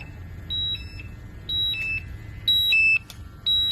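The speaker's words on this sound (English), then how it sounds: "You can hear the alarm going off." An electronic gas detector alarm, warning of a hazardous atmosphere, beeps in a steady repeating pattern of high two-tone chirps, about once per second, over a low hum.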